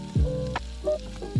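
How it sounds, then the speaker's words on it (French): Chicken thighs brown in oil in a large frying pan over medium heat, giving a steady close sizzle with a few brief higher squeaky tones on top. "À feu moyen, commencez par dorer les cuisses de poulet de 2 à 3 minutes de chaque côté."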